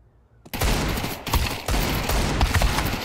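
Gunfire in Counter-Strike 2 breaks out after a brief quiet, with rapid, loud shots and repeated sharp cracks running over a dense battle din for the rest of the clip.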